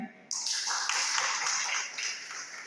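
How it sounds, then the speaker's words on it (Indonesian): Steady applause from a seminar audience starts abruptly and continues, dense clapping that slowly tapers off. "Tepuk tangannya"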